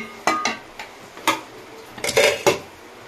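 A metal lid goes onto a cooking pot holding fried fish head, pumpkin greens and fried lentil dumplings, making a handful of sharp clanks and rattles in uneven bursts, close and fairly loud.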